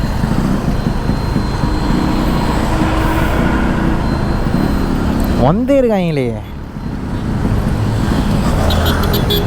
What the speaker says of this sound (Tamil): எம்புட்டு டிராஃபிக்கு.